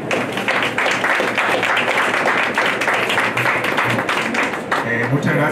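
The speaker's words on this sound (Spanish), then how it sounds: "le damos un fuerte aplauso a nuestro autor" Strong, sustained applause from the audience at a book launch honouring the author, dense clapping filling the room at full volume for several seconds without letting up.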